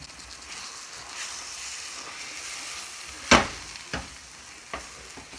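A besan and milk mixture roasts in ghee for traditional Gujarati mohanthal, giving a soft, steady sizzle while a spoon scrapes and stirs it, one sharp knock standing out midway and lighter taps following.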